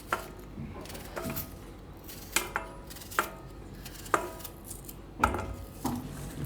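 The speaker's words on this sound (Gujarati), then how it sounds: "તો ડુંગળી છે એને આપણે આ રીતે પાતળી પાતળી સુધારશું આ રીતની." A knife thinly slices an onion on a cutting board, giving sharp, evenly spaced taps about every second, fairly close and clear over faint kitchen background noise.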